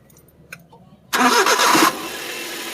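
A Suzuki DA64V mini van engine cranks and catches after a quiet moment and a small click, bursting loudly to life and then dropping into a steady, quieter idle.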